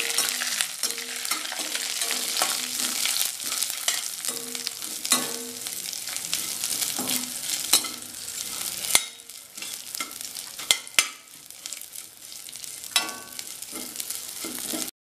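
Vermicelli roasts in a pan over a low flame, with a soft continuous sizzle and repeated scraping, stirring strokes of a spoon against the pan, and no one talking.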